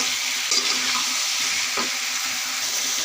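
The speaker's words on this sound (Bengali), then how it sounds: "এখন আমি ভালো করে মশলার সাথে বেগুনটি কষিয়ে নেব।" Eggplant is stir-fried with spices in a pan for a curry with katla fish, giving a steady loud sizzle close up, with a few faint scrapes of stirring.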